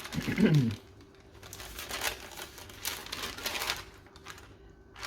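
Used baking paper from making a pecan pie is crumpled and handled, a brief loud crinkle at the start followed by quieter rustles and light taps in a kitchen.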